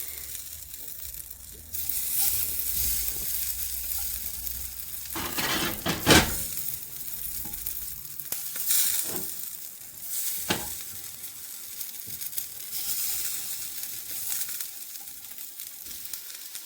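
Marinated paneer, onion and vegetables frying on a nonstick tawa, a steady close sizzle running throughout, with a few brief clinks and scrapes of a utensil against the pan.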